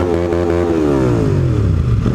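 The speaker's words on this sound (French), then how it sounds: "Ah, il y a d'autres motos, impeccable." Several motorcycles pass close by on a group ride, engines loud and rising and falling in pitch as they rev and roll through, one dominant bike fading from high to low, no talking.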